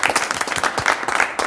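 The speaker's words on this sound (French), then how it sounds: "j'aimerais déjà qu'on applaudisse très fort pour les jurés qui sont là avec nous" A crowd at an entrepreneurship competition event applauds the jury, a brisk, full burst of many hands clapping that stays loud and even throughout.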